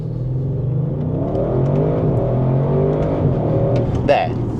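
A 2020 Audi RS6 accelerates hard toward 60 mph, its engine note climbing steadily in pitch as it pulls, loud and close throughout with a brief sharper burst near the end.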